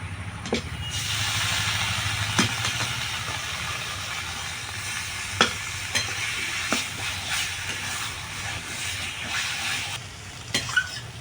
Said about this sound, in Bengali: এবার দিয়ে দেবো কচুর শাকটা